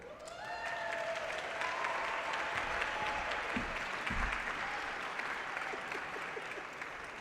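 Sustained applause from an audience at a recognition ceremony, steady and dense throughout with a faint cheer or two rising early on, no voices speaking over it.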